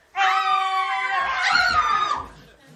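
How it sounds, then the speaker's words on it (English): A performer at an Alaska gold-rush themed Liarsville stage show lets out one long, loud, wavering scream lasting about two seconds. It starts abruptly, is close and dominant, and fades with a short tail. "What were you just screaming for?"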